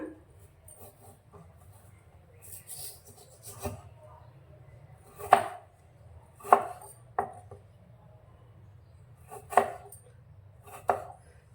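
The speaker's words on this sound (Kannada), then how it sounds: "ಚಿಕ್ಕ ಚಿಕ್ಕದಾಗಿ ಕಟ್ ಮಾಡ್ಕೊಳ್ಳೋಣ" A knife chops hill gooseberries into small pieces on a board, with a handful of sharp, irregular knocks over a quiet background hum. The chopping is close and has no talk.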